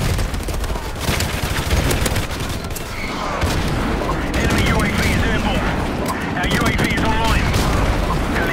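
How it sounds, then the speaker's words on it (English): Airstrike explosions and gunfire in Modern Warfare Remastered on the Shipment map, a dense, continuous barrage of booms and rapid shots that stays loud throughout, with voices heard faintly under the din. "Friendly airstrike on the way."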